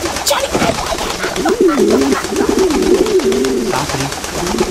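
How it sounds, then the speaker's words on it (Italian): Pigeons cooing loudly and continuously outdoors at a wedding, low rolling coos repeating close by over steady crowd and ambient noise. "I piccioni sono uccellini cattivi"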